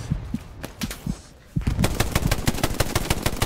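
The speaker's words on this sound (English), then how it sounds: "They're shooting bullets at our bullets" Gunfire in the war video game Hell Let Loose, scattered single shots that break into a rapid, loud burst of automatic fire, with no talking.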